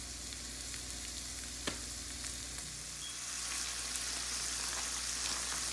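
Steak sizzling steadily in a pan for a cheesesteak dish, a continuous close frying hiss with a faint crackle of spatters and one brief knock.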